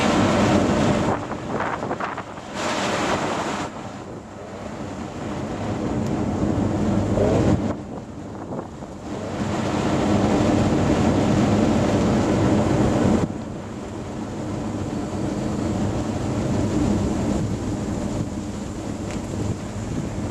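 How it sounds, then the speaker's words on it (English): An oil burner firing a simple homemade furnace for melting aluminium car parts, its blower running with the inlet partly blocked, gives a steady loud roaring rush that dips briefly a couple of times, with no talk. "I'll block the inlet of the blower a bit, just till we can get a bit of heat circulating"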